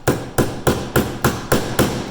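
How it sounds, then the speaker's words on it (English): Lost Vape Orion Q pod part being tapped back into place, eight sharp, evenly spaced metallic knocks in quick succession, close and loud with no voices. "we're just going to tap it back into place"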